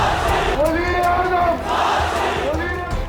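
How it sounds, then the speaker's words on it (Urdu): A large crowd at a Pakistani election rally chants slogans for Nawaz Sharif, rising and falling in loud, rhythmic waves of massed voices. "ہر انتخابی جلسے میں عوام وزیر اعظم نواز شریف کے نعرے لگانے لگتے"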